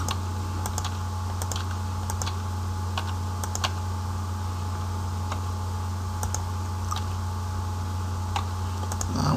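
Continuous typing on a computer keyboard while student details such as ID number and name are entered into a Java Eclipse program, with steady quick clicks over a constant low electrical hum and no talking.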